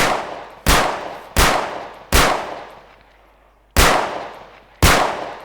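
Five sharp, loud shots from a toy gun fire at uneven intervals, each ending in a brief ringing decay.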